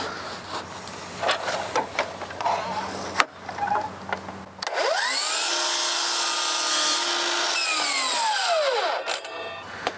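A power saw slices through poplar casing trim during finish carpentry, spinning up with a high whine that holds steady for several seconds as the blade cuts, then winds down, after quieter handling noises.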